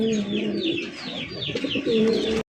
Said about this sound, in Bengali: এখানে রয়েছে একজন লক্ষা কবুতরের কালেকশন দেখতে পাচ্ছেন, সবজি কালার লক্ষা কবুতর